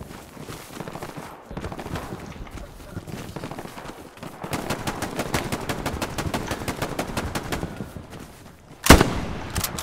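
Gunfire in the World War II shooter game Hell Let Loose: rapid automatic bursts and repeated shots crackle steadily through the clip, with a louder sharp blast near the end.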